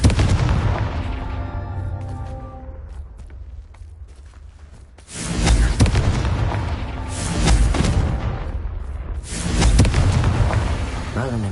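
Confringo blasting curses explode in the Hogwarts Legacy video game: repeated loud booming blasts with crackling debris, several bursts in succession, mixed with game music and voices.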